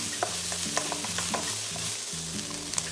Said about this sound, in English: Fry the ginger for about 30 seconds to a minute.